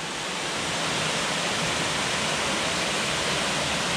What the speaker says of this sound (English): Even closer to the falls.